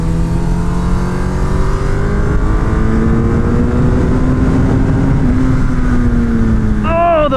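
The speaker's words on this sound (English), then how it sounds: "Shakedown on the Hayabusa on the racetrack, baby." A Suzuki Hayabusa motorcycle on a racetrack, its engine a loud steady drone with slowly rising and falling pitch close to the rider, wind roar underneath and a sharp rev climb near the end.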